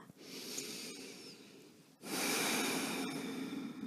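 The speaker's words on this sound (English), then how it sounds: "And breathe." Steady breathing of a person holding a kneeling yoga pose with hips resting on heels and head hanging, soft airy breaths continuing, a brief pause near the middle before a louder, fuller exhale fills the rest.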